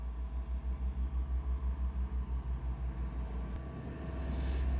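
A smooth-wheeled asphalt paving roller compacts hot-mix pavement, giving a steady low engine rumble that pulses in a regular rhythm as it rolls, fairly close and continuous with no talk.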